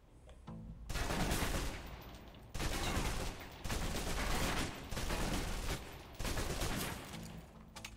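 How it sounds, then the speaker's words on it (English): A submachine gun being emptied in the video game Alpha Protocol: several long bursts of rapid automatic gunfire separated by short gaps, loud and dense, with no talking over it. "Now let's empty the clip. Let you get a feel for the recoil."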